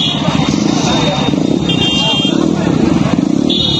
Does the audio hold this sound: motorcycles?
yes